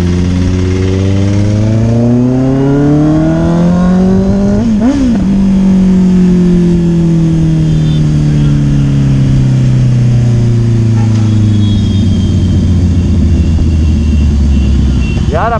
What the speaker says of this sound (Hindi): आपकी गाड़ी का साउंड क्या हो रहा है, लीटर क्लास अलग ही लगता है कि 1000 cc बाइक आ रही है